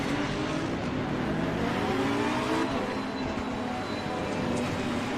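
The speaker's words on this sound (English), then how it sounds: "So this is just a quick 10-minute race to see how the Lamborghini gets on around here." Lamborghini race car engine in the Assetto Corsa Competizione racing game, a continuous, dense engine drone with traffic roar that holds steady at moderate loudness throughout.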